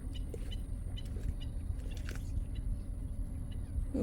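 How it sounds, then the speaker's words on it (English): An alligator at Lake Apopka crunches bones while eating a bird, giving sparse, faint cracks and bites. A steady low rumble from a car interior runs underneath. "Crunching them bones."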